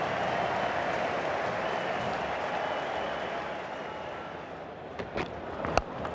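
Cricket crowd at an Ashes Test between Australia and England cheering and applauding in a broad, sustained roar that eases slightly, with a few sharp knocks near the end.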